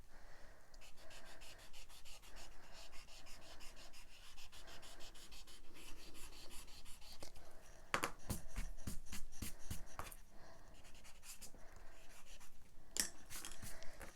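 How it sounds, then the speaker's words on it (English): An eraser rubs a pencil mark off card in quick back-and-forth scrubbing strokes, soft and close, with a denser burst of rapid rubbing partway through. "Rub out the pencil mark."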